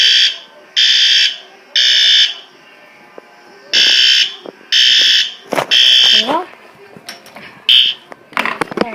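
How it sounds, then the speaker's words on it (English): Several household fire alarms, one of them fitted with a horn, sound in loud repeated bursts with brief pauses, followed by shorter chirps and beeps near the end while a person talks quietly between them. "There are my fire alarms."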